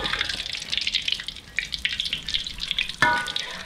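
Battered shrimp deep-fry in hot oil with a steady crackling hiss, punctuated by bursts of bubbling as pieces are moved and lifted out near the end.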